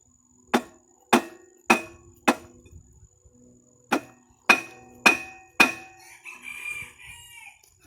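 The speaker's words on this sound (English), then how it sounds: "let's see what we can do with this here dead blow" A dead blow hammer strikes a rusted part on a Murray rear engine rider, eight sharp, loud impacts landing in two quick groups with a short pause between them and faint rattling afterward.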